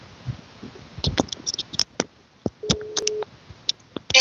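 A telephone call being placed, with a short electronic call tone sounding once amid scattered clicks and handling noises, faint and close.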